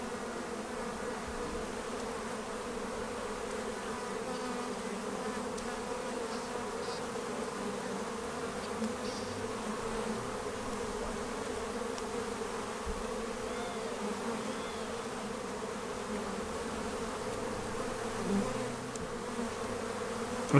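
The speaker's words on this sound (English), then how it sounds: "we've got a couple of bees sharing some pollen" Honey bees buzzing steadily at a beehive during a weekly inspection, a continuous droning hum of many insects close by with no pauses.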